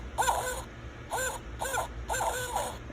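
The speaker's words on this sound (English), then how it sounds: "Yep, barred owl." Several rhythmic hooting calls of a barred owl in short bursts, clear and fairly close, with quiet background between phrases.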